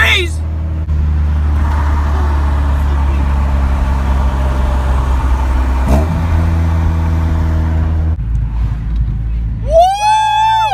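Lamborghini Aventador driving past on a tree-lined road, a sustained engine drone that swells and shifts pitch as it goes by, followed by a brief high whining sweep at the end.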